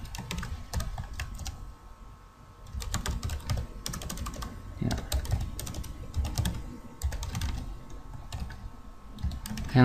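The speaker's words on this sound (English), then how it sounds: "let me just type it out" Fingers type JavaScript code on a computer keyboard in quick bursts of close keystrokes with short pauses between runs, over a steady low hum.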